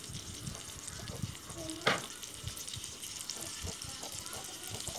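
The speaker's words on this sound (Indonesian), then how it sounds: "Jadi cuma tinggal digoreng aja." Mashed banana fries quietly in butter with a soft, continuous sizzle, broken by one sharp clatter partway through.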